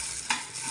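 A few red shallots fry in a pan for a fish chammanthi, giving a steady close sizzle with one brief clatter of stirring partway through.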